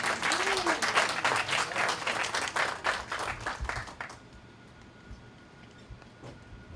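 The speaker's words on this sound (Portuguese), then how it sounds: "Peço uma salva de palmas para Daniel Rodrigues," Audience applause greeting a presenter at a talk, dense rhythmic clapping for about four seconds before cutting off abruptly into quiet room tone with a faint stray sound.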